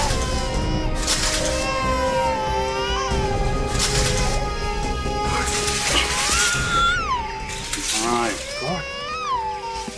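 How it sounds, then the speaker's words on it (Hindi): An infant crying in an outdoor crime-scene setting, with wailing, rising and falling cries heard over a constant hissing background and intermittent speech; the cries are fairly close and persistent. "उस तरफ से बच्चे के रोने की आवाज आ रही है।"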